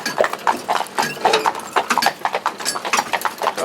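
Horse walking in harness on a hard surface, hooves clip-clopping in a steady, even four-beat rhythm, close and fairly loud, with no voices over it.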